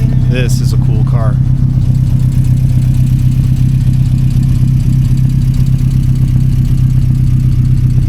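A bright blue sports car's engine idles with a steady, loud low rumble that runs the whole time, and a brief voice breaks in near the start.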